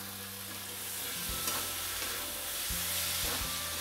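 Steady, close sizzling of dried fish frying in a hot wok over lowered gas, with a few soft stirring scrapes breaking through the crackle.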